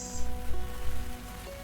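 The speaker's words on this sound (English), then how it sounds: "Ooh, it's raining." Rain falls steadily in the cozy video game Tavern Talk, a soft continuous patter with low background music tones running beneath it, no voices present.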